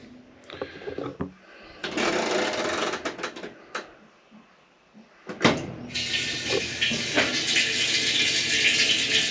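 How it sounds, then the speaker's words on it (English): Water being pumped into a tank at an off-grid solar-powered homestead, starting with clicks and handling noises, then bursts of rushing flow that settle into a continuous hiss and whir. "I should be able to start filling it up with water."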